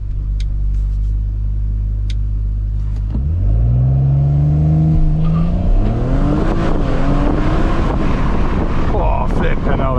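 A 2020 Audi RS4 Avant launches foot to floor on an open national speed limit road, its engine rising from a steady idle into a loud, climbing roar through the gears, with wind noise buffeting the cabin.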